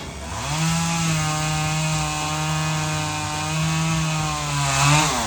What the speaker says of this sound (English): That is an itty-bitty chainsaw.